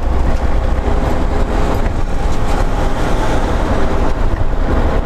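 A heavy long-haul truck drives along narrow Russian city streets, its engine and road noise forming a loud, steady low rumble throughout with no voices.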